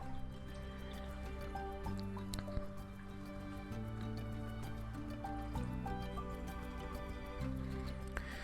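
Thick liquid cold-process soap batter pours steadily from a pitcher into a mold, with soft dripping and squishy plops, quiet and close, with faint tonal hum in the background.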